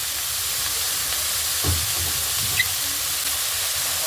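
Onions frying in a pan for an egg dish give a steady low sizzle and hiss throughout, with a soft stir or clatter partway through.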